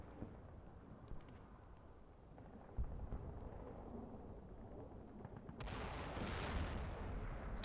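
Gunfire and heavy impacts strike a destroyed BTR armored vehicle in a snowy combat video game, with booming shots and blasts, then a louder, denser barrage of impacts near the end.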